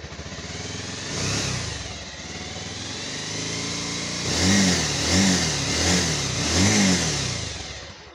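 A Bajaj Pulsar 220F motorcycle engine runs during a kerosene engine flush, idling with a close, steady mechanical drone and several brief swelling revs in the second half.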